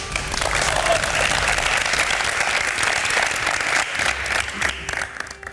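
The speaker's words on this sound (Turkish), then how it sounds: "Bir alkış." On the MasterChef Türkiye set, a group applauds in a steady, full wash of clapping that holds for several seconds before thinning out.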